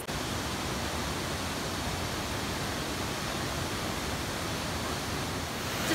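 Water pours over a waterfall near a floating lodge in Cambodia, a loud, steady broadband rush that holds an even level for the full six seconds with no voices.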